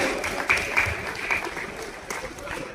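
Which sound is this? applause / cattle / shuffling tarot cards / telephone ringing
applause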